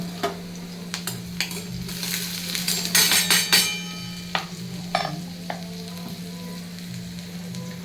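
Garlic frying and being stirred in a pan for homemade pizza sauce: a steady close sizzle with scraping spoon strokes and a few sharp clinks against the pan, and a low steady hum underneath.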